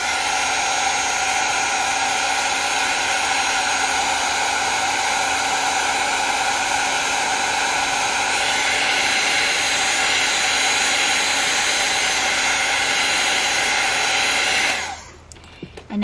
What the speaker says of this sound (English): One more time with the heat gun.